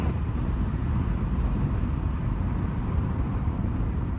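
A 2024 Volkswagen Jetta GLI, an MK7.5, cruising in comfort mode, gives a steady, even cabin drone of low engine and road rumble that holds constant throughout, with no one talking.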